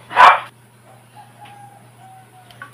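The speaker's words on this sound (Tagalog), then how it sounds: "Ingay talaga, maraming aso." A single sharp dog bark rings out up front, followed by quiet, faint chirps and a low hum in the background.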